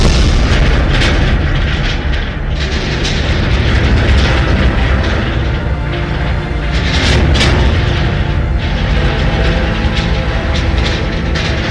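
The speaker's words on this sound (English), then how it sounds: "he sees a massive explosion in the distance" Massive explosion in the distance: a continuous deep, roaring rumble with scattered sharp cracks and bursts, loud and sustained throughout, no voices.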